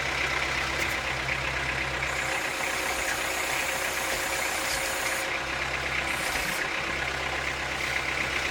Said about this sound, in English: now that I got hydraulic pressure, I can use my outriggers to lift it up